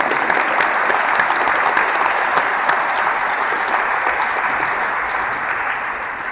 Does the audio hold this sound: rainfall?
no